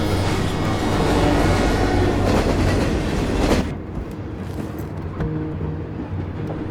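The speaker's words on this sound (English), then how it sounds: "Gotta wait for a train." A train rumbles past in the Twin Mirror game, a loud, dense roll of wheels and rail clatter that suddenly drops away as the last cars clear, leaving a softer fading rattle.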